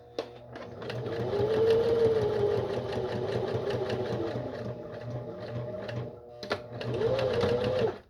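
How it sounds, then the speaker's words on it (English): A sewing machine runs steadily while stitching around a paper journal insert, with a continuous mechanical whir and a brief pause before a second burst near the end, close and clear with no talk. "Sew around."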